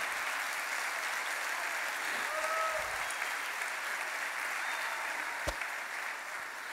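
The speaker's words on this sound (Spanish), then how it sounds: "pero están aplaudiendo acá" Audience applause during a pastor's sermon on family blessing in a church, a soft, steady hiss of clapping heard from a distance, with a brief tonal sound partway through and a sharp knock near the end.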